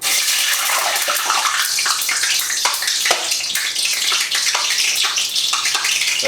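Water is thrown into hot frying grease for a Louisiana chicken fry, making a loud, continuous sizzle and crackle that hisses steadily throughout without any talking.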